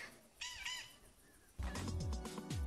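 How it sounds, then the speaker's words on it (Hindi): A bird calls from near a roadside temple in the Solan district hills, giving a few harsh, crow-like caws at moderate distance over faint outdoor background noise. "आप लोग सुन रहे हो कितनी सुंदर आवाज़ निकाल रही है ये, पर मुझे चिड़िया नज़र में नहीं आ रही है"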